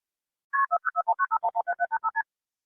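Phone ringing at the start of a recorded 911 emergency call, a rapid run of about fifteen bright electronic tone bursts in a steady rhythm, fairly loud and close, with no talking.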